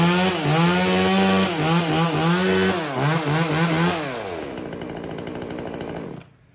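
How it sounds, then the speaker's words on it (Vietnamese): A Kamatsu KM2500 two-stroke chainsaw running at high revs, its pitch sweeping up and down as it cuts wood, then settling toward a lower idle before cutting out at the end; loud and close with no talking. "Nghe tiếng máy nổ là anh em biết là cắt gỗ nó ngọt ra sao rồi."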